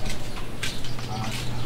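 Pigeons or other caged birds that have just been fed and watered coo and shuffle close by, a soft continuous murmur of calls with a few faint rustles.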